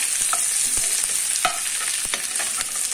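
Ginger garlic paste fries in a pan for chicken biryani, a close steady sizzle broken by repeated scraping strokes of a spatula against the pan.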